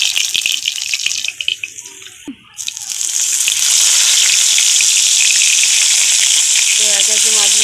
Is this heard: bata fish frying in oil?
yes